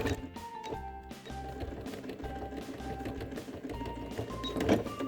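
A sewing machine runs a seam close along the edge of a fabric necessaire box, its steady mechanical stitching chatter continuing throughout at moderate loudness with no talk.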